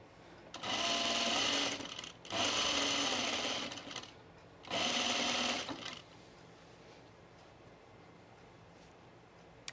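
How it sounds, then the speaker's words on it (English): Sewing machine stitching a pin tuck sleeveless top, running in three loud whirring bursts of a couple of seconds each, separated by short pauses, then quiet. "Make sure you're catching all your layers."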